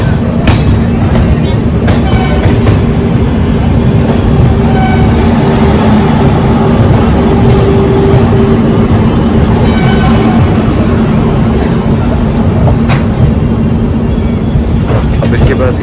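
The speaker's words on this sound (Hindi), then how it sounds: "8 मिनट में ट्रेन खोल दी बिलासपुर जंक्शन से" Duronto Express passenger train running nonstop after pulling out of Bilaspur Junction, a steady loud rumble and roar of the moving carriage from inside with faint clicks throughout.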